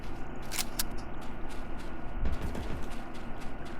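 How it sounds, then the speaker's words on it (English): Gunfire in a werewolf battle royale game rings out as a few sharp, distant cracks and a brief rattling burst over a constant rumbling ambient background. "I just heard gunfire up here"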